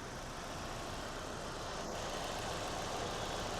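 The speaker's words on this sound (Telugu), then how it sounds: "పెట్రోల్ బండి రన్నింగ్లోనే ఉందండి" A Toyota Urban Cruiser petrol car idles with a steady low engine rumble and broadband noise, even and unchanging, fairly quiet and heard alone.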